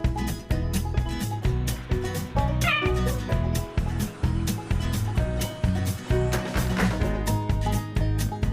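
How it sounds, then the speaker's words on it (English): A cat meows a couple of times, short and fairly faint, under loud rhythmic background music. "Where's the kitty cat?"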